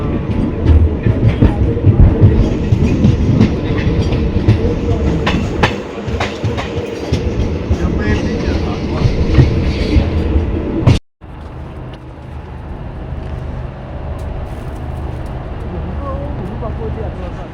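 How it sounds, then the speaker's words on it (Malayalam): A train on the Banihal to Srinagar line rolls into Awantipora station with loud, steady clickety-clack and rumble. The noise breaks off abruptly partway through, and quieter rail noise continues after the cut. "ട്രെയിൻ അവണ്ടിപ്പുര റെയിൽവേ സ്റ്റേഷനിലേക്ക് എത്തി"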